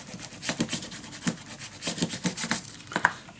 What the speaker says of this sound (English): burnish this down.